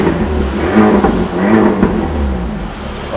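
An Alpine A110 S sports car engine revs up and down in short swells, a full throaty drone heard from close by.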